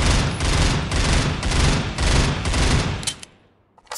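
Rapid gunfire from a burst-fire weapon in the shooter game Critical Ops, loud repeated bursts in quick rhythm for several seconds, then cutting off into near silence.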